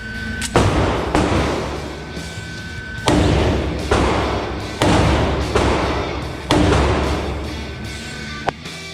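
IAI AutoMag III pistol firing a series of rounds, each shot a loud, sharp bang with a ringing decay, several reports spaced unevenly across the stretch, close to the microphone.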